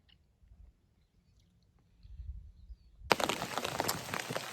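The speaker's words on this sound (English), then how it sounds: "Well, it's raining again." Rain suddenly starts drumming on an umbrella held by a hiker on the Appalachian Trail, a dense, close, steady patter that begins abruptly after near-quiet footsteps.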